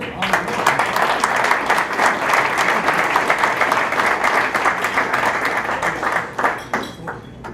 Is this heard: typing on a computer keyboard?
no